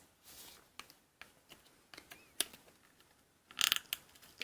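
Ratchet joints on a Stranger Things GameStop exclusive Ghostbusters action figure click as the limbs are posed, giving scattered sharp plastic clicks with a brief cluster of louder rapid clicks near the end, close and fairly quiet.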